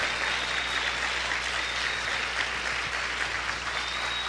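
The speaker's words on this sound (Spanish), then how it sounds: "¿Cuántos pueden aplaudir fuerte al Señor?" Sustained loud applause fills a church as the congregation claps together, a thick, even roar of hands with no gaps and little voice on top.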